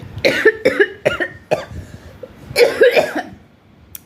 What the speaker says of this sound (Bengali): কাশি কেন উঠল